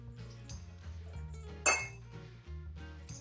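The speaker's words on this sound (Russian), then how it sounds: "И нашу сковородку мы отправим лангустины." A sharp metallic clink as langoustines land in an oiled frying pan for paella, standing out over steady low background hum and faint kitchen clatter.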